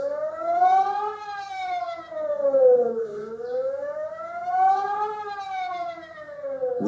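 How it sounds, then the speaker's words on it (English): A Singapore public warning system siren sounds the important-broadcast signal, a loud wailing tone that slowly rises and falls in long sweeps, heard alone. "This is sounded when the population is to be alerted to an important broadcast on local radio stations."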